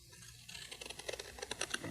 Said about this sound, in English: Take the scissors and first cut like that.